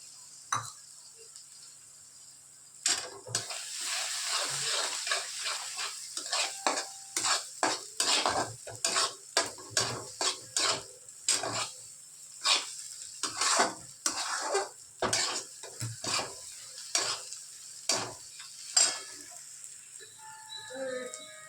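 Three eggs for egg bhurji are stirred in a hot pan, with repeated sharp scrapes and clinks of a utensil over a light sizzle, moderately quiet with irregular bursts.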